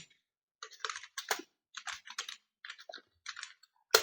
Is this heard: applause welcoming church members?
no